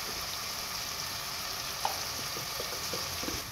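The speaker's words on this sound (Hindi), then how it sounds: "अच्छे तरीके से मिक्स कर लेंगे इन सब चीज़ों को आपस में। अच्छे तरीके से भुनाई करवा देंगे मसाले की।" Turmeric, chili powder and salt roasting in a pan give off a steady soft sizzle, with faint scraping taps from the stirring spoon, close and quiet, with no voices.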